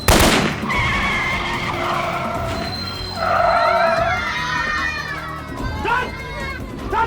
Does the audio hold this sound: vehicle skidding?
yes